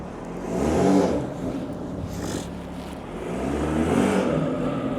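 A stage 2 BMW 340i with a turbocharged B58 engine revs in long, swelling pulls, its deep roar rising and easing back twice over a steady hum.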